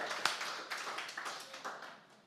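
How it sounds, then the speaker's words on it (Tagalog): Church congregation clapping hands during a worship service, a run of separate claps with one sharp accent early, moderately near and fairly quiet, fading toward the end. "Lahat ng nakipag-isa sa ating Panginoon, pumalakpak."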